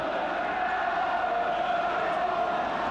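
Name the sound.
football crowd shouting at Wolves v Wrexham match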